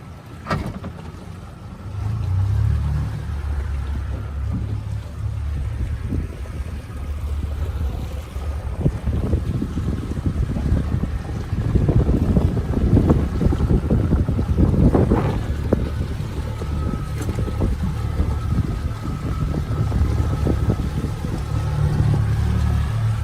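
A boat's motor idles low and steady as it backs out on open water, with wind buffeting the microphone and the engine rising somewhat louder midway, no talk heard.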